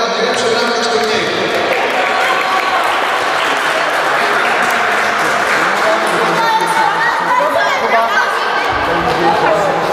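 A crowd at a youth tournament award ceremony applauds steadily for the event's best goalkeeper, loud dense clapping mixed with chatter and a few voices, continuing for the whole stretch before thinning slightly at the end.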